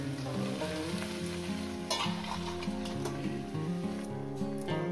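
Chorchori of khesari greens, potato, eggplant and bori cooks on low gas, giving a steady soft sizzle and bubbling throughout, with background music playing over it and no one talking.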